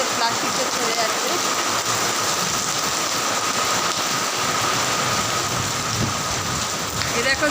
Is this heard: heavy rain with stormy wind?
yes